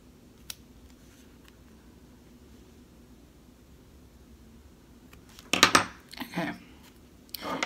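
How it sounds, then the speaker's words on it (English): Curved scissors snip through embroidered fabric in a few quick close crisp cuts late on, after a long near-silent stretch with one faint tick. "this is where I wanted to actually use these curved scissors"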